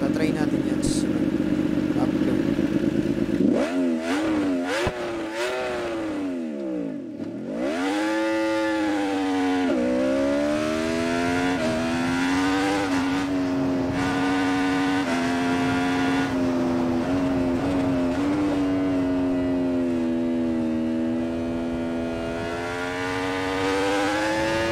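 2019 Yamaha R1 with an SC Project exhaust in the Ride 4 racing game, its engine revving and shifting with pitch swoops, then a loud sustained high-rev wail that holds steady, close throughout.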